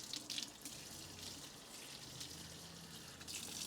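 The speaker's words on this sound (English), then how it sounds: "Now what you can do is go ahead and rinse out the sponge that you have." A sponge is rinsed under a running kitchen tap while pots and pans are cleaned with baking soda, a soft, steady stream of water splashing faintly and continuously with a few louder gushes.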